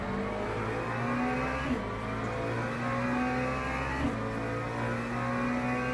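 A race car engine in the Le Mans Ultimate racing game drones at high revs in a steady, moderately loud tone, with two brief gear shifts, running side by side with an LMP3 prototype.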